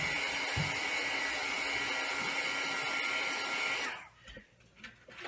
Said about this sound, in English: I'm going to take my heat gun and I'm going to set her